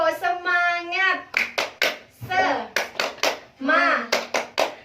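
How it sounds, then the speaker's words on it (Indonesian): Classroom students perform a rhythmic spirit clap, crisp sets of claps in patterned bursts alternating with children chanting in unison, close and loud. "Tepuk semangat."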